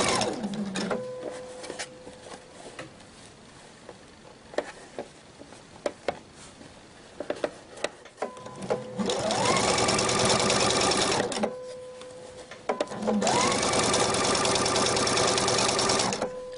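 A domestic sewing machine stitches a tunic shirt collar in two loud, sustained runs, each ramping up and ending abruptly, after quieter handling and fabric rustle at the start.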